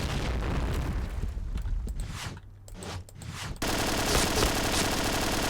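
Gunfire in the shooting video game Point Blank: bursts of rapid machine-gun-like shots and booming blasts, loud and dense, with a brief quieter gap before the firing resumes hard.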